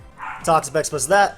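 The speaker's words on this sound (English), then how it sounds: "Sorry about my dogs. Can't do anything about that at all." Small dogs barking and yipping in quick bursts close by, sounding over someone talking.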